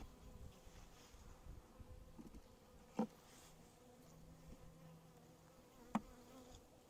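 Honey bees buzz in a softly droning, continuous hum around an opened hive during a beginner's inspection, with two sharp knocks breaking through.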